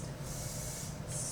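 Short bursts of fine hissing airbrush spray applying highlighter makeup, two puffs close by with a brief pause between, quiet and soft.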